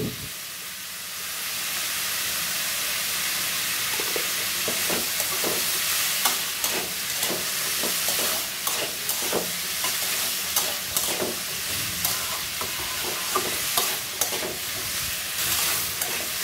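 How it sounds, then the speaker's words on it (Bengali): Potatoes and pointed gourd with turmeric and salt are stirred in a hot pan, a continuous sizzle overlaid by repeated scraping and clacking of the spoon in an irregular rhythm, close and fairly loud. "দেখো, ভালো করে নেড়ে চেড়ে নিলাম।"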